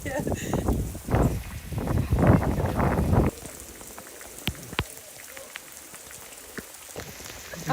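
Rain at the ancient site of Abusir comes first as loud, surging washes of patter, then thins to scattered single drops tapping close by on a hard surface.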